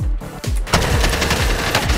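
Loud, rapid automatic gunfire in Warzone, a dense rattling stream of shots with heavy low thumps, close and continuous throughout.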